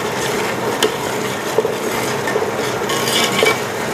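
Chopped tomatoes and a paste cook in oil for Karachi biryani, giving a steady, close sizzle with scattered clinks of a spoon against the pot.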